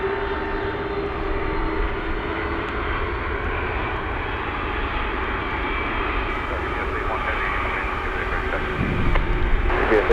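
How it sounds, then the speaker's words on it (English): A heavy cargo jet rolls for takeoff on runway 25 left at Anchorage in gusty wind, a steady broad engine roar holding throughout and swelling slightly near the end, with radio voices heard faintly. "25 left, clear to take off."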